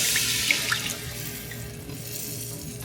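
Sauce pours steadily into a hot pan of honey chicken, a broad splashing hiss that settles into an even sizzle, with no talking.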